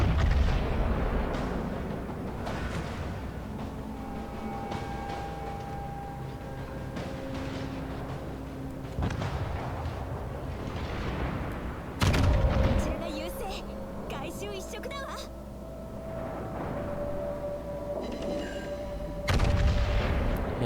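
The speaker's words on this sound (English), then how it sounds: "You can see just about every time you send a salvo from one triple turret," Naval gunfire from triple-gun turrets in World of Warships, sounding as repeated deep booms and blasts over a constant rumble, with loud salvos near 12 and 19 seconds. Music or narration runs underneath.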